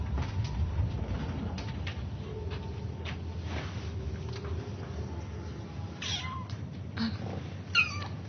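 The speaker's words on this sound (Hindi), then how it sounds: "बिल्ली के बच्चे क्यूट है ना?" Kittens hidden away indoors give soft, faint meows in a few short cries near the end, over a low steady background hum.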